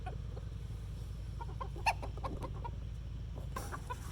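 Black Wyandotte cockerels, fresh out of an A-frame grow-out pen, clucking in a few short, scattered calls over a steady low rumble of background noise, with one slightly louder call near the middle.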